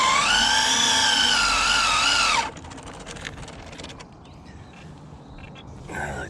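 Traxxas No Prep Drag Slash RC car doing a burnout, a loud high electric motor whine with wavering pitch for a couple of seconds that stops suddenly, leaving quieter rustling and small clicks.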